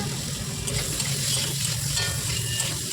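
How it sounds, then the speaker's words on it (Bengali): Paneer frying in butter in a pan gives a steady, close sizzle with a constant low rumble underneath, lasting the whole short stretch without pauses. "শুধু আমি বাটার দিয়ে এখানে পনিরটা ভেজে নেব"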